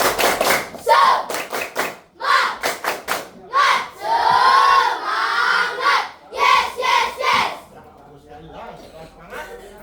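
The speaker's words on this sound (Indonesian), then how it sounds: "kita tepuk semangat dulu" A classroom of students performing the tepuk semangat clapping chant, rhythmic bursts of unison claps interleaved with loud shouted group chanting, energetic and close, ending in a few softer claps and voices.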